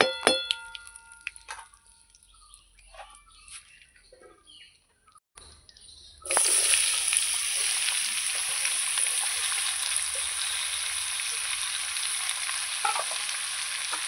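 After quiet clinks and a few faint bird calls, ash gourd hits hot oil tempered with bay leaf and erupts into a loud, steady close sizzle that continues to the end.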